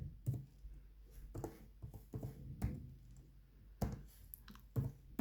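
A Linux terminal command is typed on a laptop keyboard, with soft irregular key clicks in small clusters, close and quiet, with no speech.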